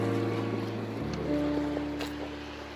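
A steamboat chugs slowly across the water, its steady low engine drone running continuously and close by, with a shift in pitch partway through and no one talking.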